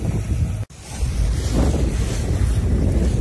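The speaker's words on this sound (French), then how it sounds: "On a le vent qui vient légèrement de côté, de face, mais très très serré." Steady wind blows around a sailboat at sea on a flat sea, close to the microphone and buffeting it, with a brief dropout early on and no voices.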